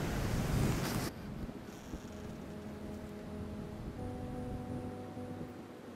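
Strong, steady wind buffets the microphone outdoors at dusk during a roost shoot, with a loud gust at the start dropping to a constant rushing roar and faint tonal hum, no talking.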